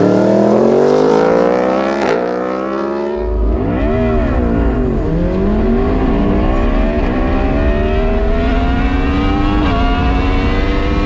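Loud engines rev hard through rapid gear changes, a McLaren car and a Yamaha R1 motorcycle accelerating at full throttle in a drag race, pitch climbing and dropping with each shift.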